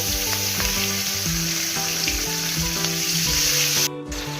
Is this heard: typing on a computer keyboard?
no